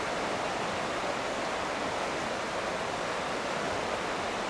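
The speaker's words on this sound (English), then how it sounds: "the river flowing down from Glenfiddich" A river flows downstream from the Glenfiddich area in a steady, dense rush of water, close and constant with no breaks and no voices.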